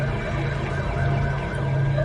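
Police car siren wailing steadily and loud throughout, close by, in a Hindi-dubbed crime thriller scene, with a continuous droning tone and no talk over it.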